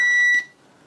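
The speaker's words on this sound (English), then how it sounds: "this one's quite a healthy sounding buzzer on it" A pocket multimeter's continuity buzzer, from an ANENG, UT120C or VC921 meter, sounds one short, loud, piercing electronic tone that cuts off sharply, followed by a quiet room.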